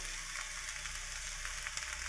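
Chicken fried rice being stirred together with tomato, soy and chilli sauces in a hot pan, giving a steady, continuous sizzle and scraping with no talking.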